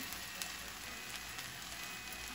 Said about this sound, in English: take the egg, crack it into the middle, just let it sit in there, let it cook right